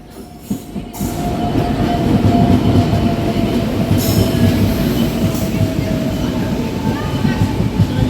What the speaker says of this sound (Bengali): আমাদের ট্রেন ঢুকছে। উত্তরবঙ্গ এক্সপ্রেস তার নতুন LHB রেক পেয়েছে।